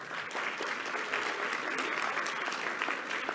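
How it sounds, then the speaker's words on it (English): Steady audience applause at a community college Phi Theta Kappa induction ceremony, a dense, even patter of many hands held at a moderate level throughout. "how about you all just give her a round of applause?"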